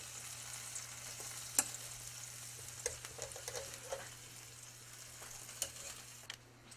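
A cauliflower steak, just flipped, fries in a pan with warm spices, giving a soft steady sizzle with occasional small pops and light clicks, fairly quiet and free of talk.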